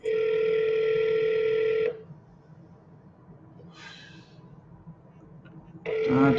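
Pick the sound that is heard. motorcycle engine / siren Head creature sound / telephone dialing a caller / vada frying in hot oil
telephone dialing a caller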